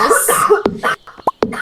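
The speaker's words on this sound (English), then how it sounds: "Sorry, I keep coughing." A person gives several sharp, close, loud coughs in quick succession, with brief voiced sounds between them.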